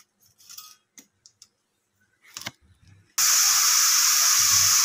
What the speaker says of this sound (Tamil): இதில் அதே தாளிப்பு தான், 2 பட்டை, 2 கிராம்பு, ஏலக்காய், 1 பிரியாணி இலை இதெல்லாம் போட்டு நம்ம வந்து தாளிக்க போகிறோம்